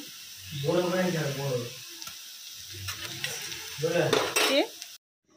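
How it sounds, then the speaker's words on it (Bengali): Ginger-garlic paste hits fried onions in a pan with a soft hissing sizzle and a few scraping stirs, while a voice speaks intermittently over it before the sound cuts out. "পেঁয়াজটা ভালোভাবে ভাজা হয়ে গেছে। এবার আদা রসুনের পেস্টটা দিয়ে দেবো।"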